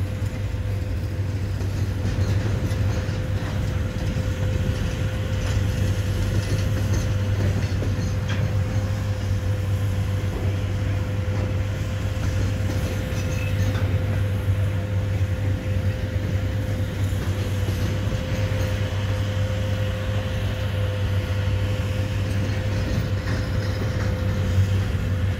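A Canadian Pacific double-stack container freight train rolls past steadily at the Port of Montreal with a continuous low rumble and rail noise, sustained and unbroken for the whole stretch.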